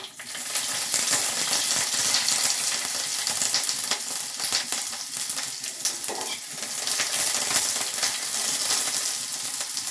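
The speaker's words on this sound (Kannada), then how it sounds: "ಎಣ್ಣೆ ಹಾಕಿದ ತಕ್ಷಣ ಎಷ್ಟು ಮಟ್ಟಿಗೆ ಜೋರು ಮಾಡ್ತಾ ಇದೆ ನೋಡಿ" Ingredients for kavalekai chutney fry hard in hot oil, a dense, loud sizzle that crackles continuously for the whole stretch with occasional stirring scrapes and no voices.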